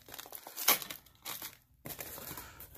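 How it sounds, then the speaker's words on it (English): Packing tape ripped off a cardboard coin box: a sharp tearing rip followed by crinkling and scraping of tape and cardboard, close and fairly quiet. "Going to rip this tape off."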